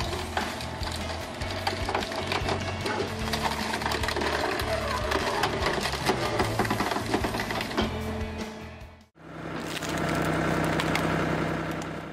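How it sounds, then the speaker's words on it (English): Homemade automatic firewood processing machine with a hydraulic log splitter working through firewood, a loud continuous mechanical clatter and crunch of splitting wood that cuts out briefly near the end, then resumes. "This wood splitter is truly amazing."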